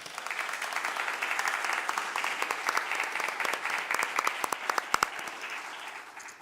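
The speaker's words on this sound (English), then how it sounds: "let's give another round of applause to everyone that's so involved with making it happen" A crowd at a United Way campaign kick-off applauds steadily, a bright wash of many hands clapping, with a few louder individual claps standing out near the end.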